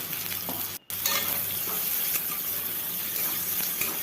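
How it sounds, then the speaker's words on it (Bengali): Dried fish fries in a pan and is stirred until reddish, giving a steady close sizzle with soft scraping strokes and one brief dropout, with no talking. "ভালো মতো একটু পোড়া পোড়া করে নিচ্ছি লাল লাল করে ভেজে নিচ্ছি"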